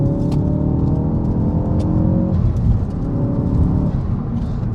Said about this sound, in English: I don't know if you can hear the Cobb air filter going there.